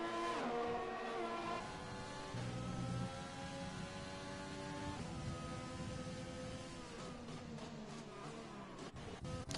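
A Renault racing car engine drones and shifts pitch through gear changes while the car runs partly onto gravel at a round of a racing series in Spain, a steady mid-distance roar with slight crunching texture.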